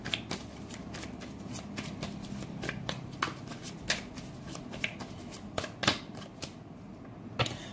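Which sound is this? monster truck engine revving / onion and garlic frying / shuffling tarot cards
shuffling tarot cards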